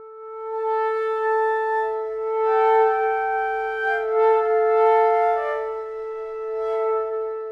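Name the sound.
breathy woodwind surges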